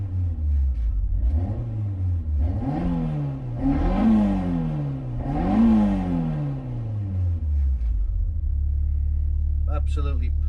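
A Peugeot 205 GTi fitted with an Mi16 engine revs hard in a garage, rising and falling through three loud sweeping blips before dropping back to a steady idle, close and alone.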